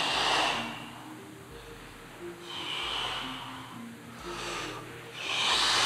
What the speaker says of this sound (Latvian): Nu, nevajag elpot, protams, tik skaļi kā es.